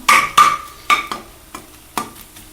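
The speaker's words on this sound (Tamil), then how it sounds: "கொஞ்ச நேரம் சிம்மிலே இதை வதங்கட்டும்" Goat blood stir-fry sautés on a low flame, heard as a series of spaced, fairly loud scraping stirs and knocks of a utensil in the pan over a faint background sizzle, with no talking.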